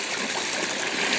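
A bush stream flows with a steady, close rushing and trickling of water, continuous broadband wash without pauses, with no one talking.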